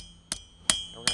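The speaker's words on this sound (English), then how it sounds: "then we take the steel and lay it over the anvil, holding it in about the same place" Steel for a fire steel is hammered on an anvil with three sharp, ringing strikes spaced evenly about a third of a second apart, moderately quiet and close.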